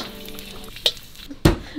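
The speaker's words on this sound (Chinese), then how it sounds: "其实就小火慢慢煎，就这样子" A single liquor-seasoned sausage pan-fries over low heat with a soft, crackly sizzle, broken by a couple of sharp pops or utensil clicks.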